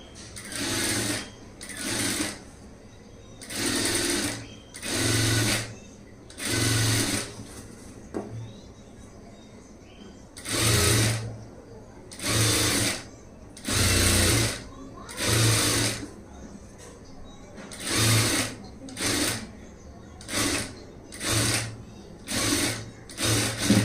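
A sewing machine stitches a front gap blouse in repeated short bursts, roughly a dozen close, loud runs separated by brief pauses, with a low steady hum underneath throughout.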